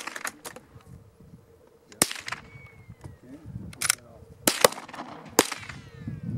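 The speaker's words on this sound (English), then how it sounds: "right Alex the shooting the Glock 9 millimeter" Gunshots from a Glock 9 millimeter pistol at an outdoor high-desert range: several sharp, isolated cracks spaced a second or so apart, moderately distant, with faint talk and background noise between shots.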